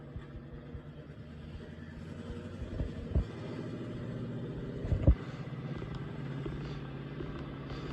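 A car engine rumbles steadily while driving, a low continuous drone with a couple of brief thumps and bumps, no voices over it.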